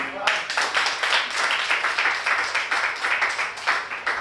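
An audience at an open mic poetry event in Kanpur claps steadily and loudly for several seconds, a dense, continuous applause with no voices standing out.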